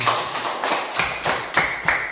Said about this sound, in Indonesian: Nah, benar sekali, tepuk tangan.